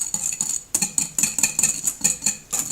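Egg whites and sugar being whisked in a bowl for tiramisu, a steady rhythmic series of bright metallic clinks and scrapes, roughly four strokes per second, close and clear with no talking.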